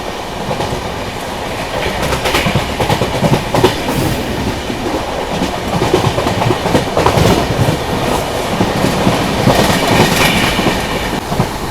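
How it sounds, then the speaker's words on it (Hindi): Passenger express train rolling through Hadapsar railway station near Pune, a steady loud rumble with rhythmic clickety-clack of wheels over rail joints, heard from on board, continuous for the whole stretch with no talk. "अभी हम लोग फिलहाल क्रॉस स्किप कर रहे हैं पुणे का सेकेंडरी हडपसर रेलवे स्टेशन"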